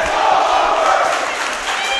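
Rams fans roar and cheer in a high school girls' basketball gym near the end of a game, a dense, steady wall of crowd noise with shouting voices throughout.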